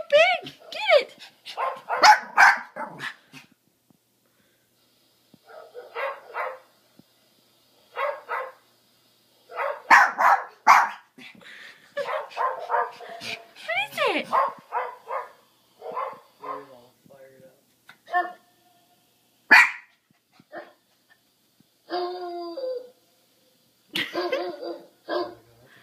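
A dog barks, yips and whimpers in a series of short, close bursts spread across the stretch, with people talking in between and over it.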